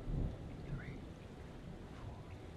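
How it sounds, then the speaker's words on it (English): Thunder rumbles through a heavy rainstorm in the PS5 horror game Man of Medan, with a low burst at the start fading into a steady, soft wash of rain. "storm's 8 miles away"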